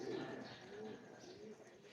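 A teddy pigeon gives soft, low cooing calls, faint and close, in a quiet room.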